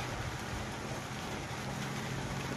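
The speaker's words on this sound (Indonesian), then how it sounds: "Pak Labai lagi hujan-hujanan." Steady rain falls in a rural village beside a road, making a dense, even hiss of drops with a low background rumble, no distinct voices.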